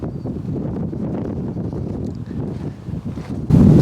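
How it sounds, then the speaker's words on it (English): Strong outdoor wind with gusts of about 60 miles per hour buffets the microphone in a steady low roar, surging into a louder burst near the end. "it's super crazy windy, like 60-mile-an-hour gusts"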